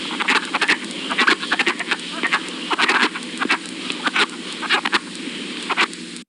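Frog giving a rattling, creaky-door call, a series of short raspy bursts repeating irregularly, fairly close over a soft background hiss.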